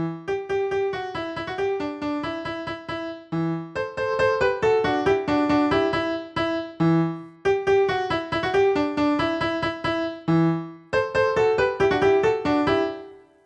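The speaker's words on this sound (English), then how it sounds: "So that's the drop melody" A bright synth drop melody from an electronic dance track plays in repeating four-bar phrases, plucky notes over a pulsing low bass, loud and alone with no talking.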